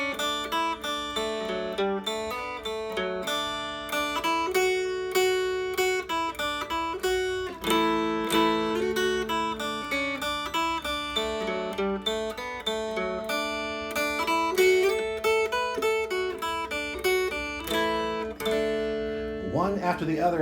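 A mountain dulcimer plays part of the fiddle tune Arkansas Traveler in straight eighth notes, an even, steady stream of bright, close notes, with no talking.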